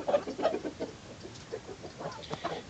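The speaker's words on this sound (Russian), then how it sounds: "Вот такой цыпленок." Small chick with flamingo syndrome, a leg condition, peeping nearby, a scatter of brief high chirps in an uneven rhythm, fairly quiet with faint rustling.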